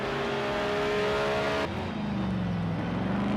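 Group C race car engine in Project Cars 2 at the Nurburgring GP circuit, a loud sustained high-revving drone that shifts pitch abruptly midway as the car changes gear or passes, continuous throughout.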